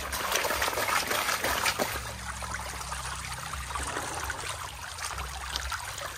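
Water trickling and sloshing during manual gold panning in a rocky river, a steady close babble with occasional splashes and a low rumble beneath.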